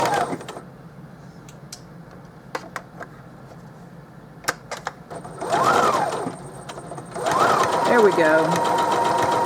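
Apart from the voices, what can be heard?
sewing machine stitching a stocking cuff seam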